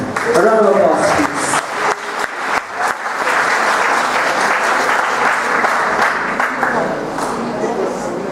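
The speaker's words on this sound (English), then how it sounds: "A round of applause, please" A conference audience on the urban redevelopment of Tacloban City applauds a speaker, a loud, dense wash of clapping sustained for several seconds, with a voice talking over the opening moments.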